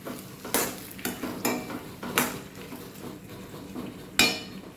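Lemon pickle with asafoetida being stirred in a pan over medium flame, with a spoon scraping and clinking against the metal in several distinct strokes, fairly close, over a faint background hiss and no talk.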